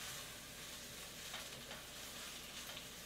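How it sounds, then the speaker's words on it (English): Baby kale sautés in a pan with pesto and lemon juice, giving off a soft, steady sizzle and crackle throughout, with no voices. "So while the kale is sauteing"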